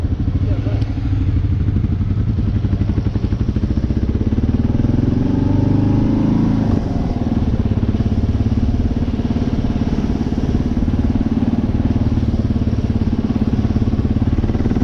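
A Kawasaki KLR 650 single-cylinder motorcycle being ridden, its engine a constant buzzy drone mixed with wind rush, shifting pitch about halfway through as the revs change.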